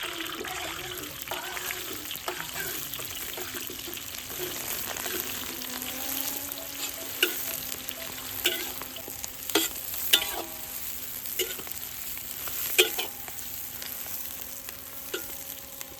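Curry leaves frying in cooking oil in a pan outdoors by a river, a continuous hissing sizzle with stirring scrapes and a few sharper crackles and pops toward the middle, close and alone without talk.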